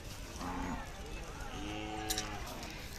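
Khillar cow at a crowded cattle market fair, giving a low drawn-out moo under steady crowd chatter and people talking nearby.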